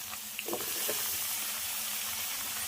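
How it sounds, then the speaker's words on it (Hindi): Sahjan drumsticks (moringa pods) fry with onion in a pan, making a steady, close hissing sizzle with faint crackles throughout and no talking. "तो देखिए हल्का सा प्याज भुना गई अब में सहेजन डलाई"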